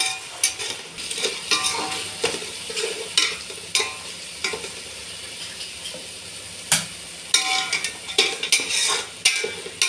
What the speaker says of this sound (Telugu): ఇది మొత్తం ఆయిల్ పైకి వచ్చేంత వరకు వేపుకోవాలి